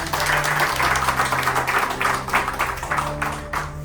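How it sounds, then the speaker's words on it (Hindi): An audience at a repair shop training session claps loudly for themselves, rhythmic bursts of close hand claps over a steady low hum and background tones, repeating in waves throughout. "एक बार जोरदार ताली हो जाए अपने लिए"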